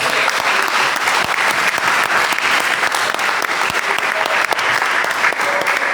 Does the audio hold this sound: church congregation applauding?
yes